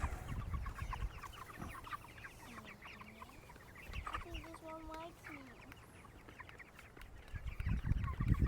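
Baby chickens cluck and peep close by in a coop, a steady scatter of small chirping calls with a few brief louder bursts, sounding alongside faint background handling noise.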